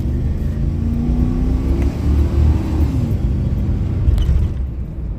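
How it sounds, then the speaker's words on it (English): A 1998 Chevrolet C1500 pickup engine with a history of misfiring is held at wide-open throttle from a stop, giving a loud, steady, close roar that climbs in pitch, with no voices. "At the stop sign, I'm going to do a wide open rip."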